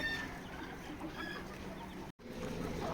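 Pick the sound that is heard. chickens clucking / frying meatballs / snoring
chickens clucking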